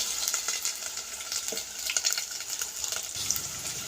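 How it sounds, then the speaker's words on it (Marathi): Chopped potato fries in oil over a wood-fired stove, giving off a steady, close hiss and crackle with no one talking. "आता इथे मी एक बटाटा चिरलेला आहे तो सुद्धा आपण तेलामध्ये भाजून घेऊया"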